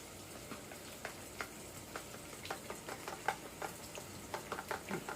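Spoon scraping and clinking against a pot as food is stirred to dissolve salt, a steady run of light, irregular taps and scrapes at close range over a low background hiss.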